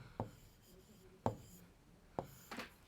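Chalk or pen marks hit a classroom board or paper in three short taps roughly a second apart, each followed by a brief scratchy stroke, close and fairly quiet. No voice is heard.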